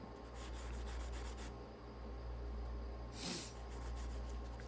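A Brillo pad rubs over rocks to burnish them, making a steady, close scrubbing hiss that runs throughout with a brief louder swipe near the end.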